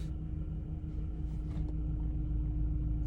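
A car drives slowly toward a parking spot, heard from inside as a low, steady engine rumble and road hum lasting about three seconds, with no voices.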